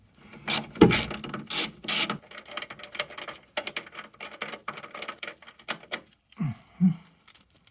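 Ratchet wrench clicking on a bolt of a 1994 Jaguar XJS V12, loud close bursts of rapid ratcheting and metallic clatter in uneven spurts with short pauses.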